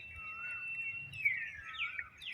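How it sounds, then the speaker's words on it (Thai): Thin, high bird chirps and twittering float over a quiet low hum, steady at first and then busier with quick calls. "ได้ยินเสียงนก เพื่อนๆ ได้ยินเสียงนกไหม"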